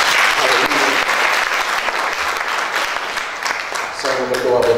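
A church congregation applauds during a Christmas service, dense clapping that stays loud and full throughout, with a voice speaking over the tail end.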